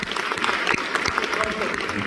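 Audience clapping at a live talk event, a brief patter of scattered applause from a modest crowd that fades into room noise, with a voice speaking over it.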